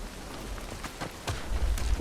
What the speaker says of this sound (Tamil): மழை வேறு பெஞ்சிட்டு இருக்குதுல்ல